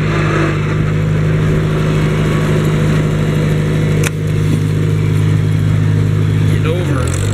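A Farmall Cub tractor engine runs steadily while disking a field, a loud continuous low drone with a brief dip near the end, and someone talks over it.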